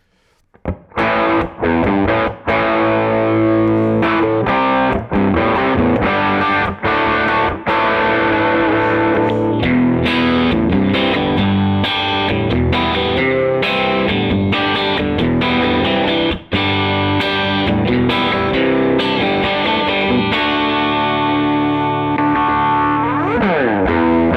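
A distorted 1988 PRS Custom electric guitar drenched in effects plays loudly and continuously, with chorus-like shimmer and sustained chords ringing out.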